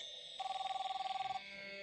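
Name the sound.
mobile phone ringing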